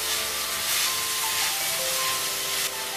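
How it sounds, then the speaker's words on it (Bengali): Raw mango frying in a pan over a medium gas flame, a continuous loud, even hiss and sizzle lasting throughout. "আমরা আমটাকে 1 মিনিট মতন একটু ফ্রাই করে নেব।"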